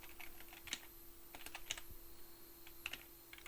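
Computer keyboard typing table contents into a word processor, light irregular key clicks in short bursts with small pauses, close and fairly quiet, no speech.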